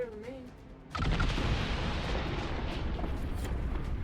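In the video game Dragon Age: Inquisition, a sudden loud blast erupts after a brief quiet moment, followed by a sustained roaring, crackling rumble that fills the rest of the clip.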